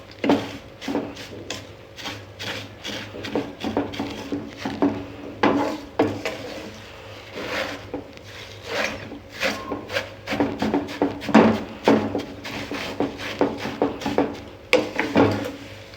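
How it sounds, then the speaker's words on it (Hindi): Vermicelli fries in oil in a pan while a utensil repeatedly scrapes, clacks and rubs against the metal in an irregular, close rhythm over a low, steady background hum. "थोड़ी देर हम इसको जो है ऑयल में फ्राई करेंगे,"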